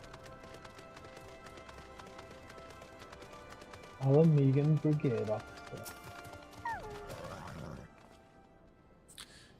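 A horse's hooves clip-clop and a horse neighs in Final Fantasy XIV, with a short whinny burst in the middle of the game audio. People talk over the sounds.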